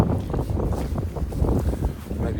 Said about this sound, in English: Might be kind of windy up here.